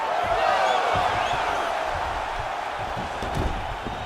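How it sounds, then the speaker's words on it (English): Arena crowd noise from EA Sports UFC 4, a steady roar of spectators reacting during a grappling exchange, filling the background at moderate level throughout. "you can hear the crowd reaction every time he lands another hook"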